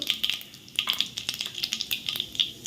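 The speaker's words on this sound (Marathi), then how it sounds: "तेल आता तापलं आहे तर आपण आधी मोहरी घालूया घालूया जिरं" Mustard seeds and cumin crackle in two to three spoons of hot oil, tempering for a pomegranate-bean usal cooked without onion or garlic: a steady close sizzle with small sharp pops scattered throughout, no talking.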